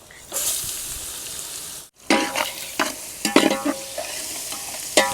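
Tempering spices, peanuts, dried chillies and grated raw mango fry and get stirred in a pan for village-style mango rice, a steady close sizzle broken by a brief gap, then scraping stirs and clinks.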